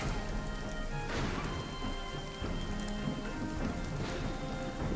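Steady, heavy rain pours in the video game Wartales during a stormy battle, a dense continuous hiss of drops on the ground with occasional soft thuds, filling the scene without pause.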